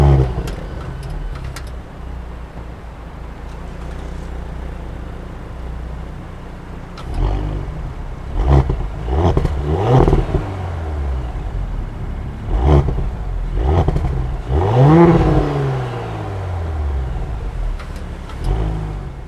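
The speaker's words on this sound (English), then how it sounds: "the supercharged unit is a 3-liter twin-scroll turbocharged V6 engine" A 2018 Audi S4's 3-liter turbocharged V6 revs in several sharp bursts, rising and falling in pitch over a steady low idle, close and fairly loud.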